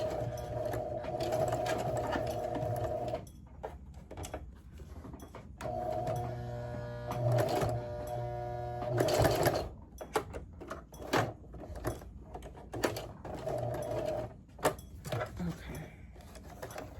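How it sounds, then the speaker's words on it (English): A sewing machine runs in several bursts while back stitching, a near, steady mechanical whir stopping and starting, with a person talking over it. "I'm gonna back stitch."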